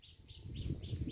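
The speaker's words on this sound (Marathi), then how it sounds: "पाखरांचा चिवचिवाट चालू आहे बघा." Morning birds chirp in a village setting: a quick series of faint, bright tweets repeating in a steady rhythm over a low background rumble.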